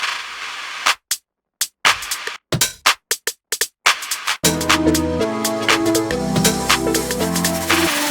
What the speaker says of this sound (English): It sounds like this, just the drums.